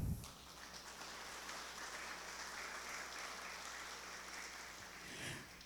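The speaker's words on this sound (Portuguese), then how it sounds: "Palmas para Carla." Audience applause at a talk event on Black social clubs, a sustained crowd clapping that swells right after a short burst and holds steady, moderately distant, before tapering off near the end.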